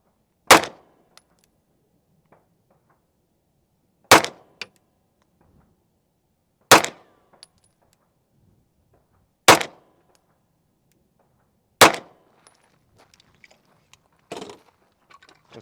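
Five sharp, loud pistol-caliber shots from a MAC9 DS Comp firing Atlanta Arms 115 ammunition, spaced a few seconds apart, each with a brief echo tail, plus faint handling clicks between them.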